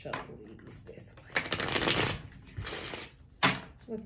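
A deck of cards shuffled by hand, several quick riffling bursts with short pauses between, close and fairly quiet, with soft talking around them.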